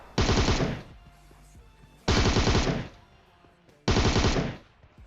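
Automatic gunfire in the PUBG Mobile video game comes in three loud, evenly spaced bursts of rapid shots, each lasting under a second and separated by short pauses.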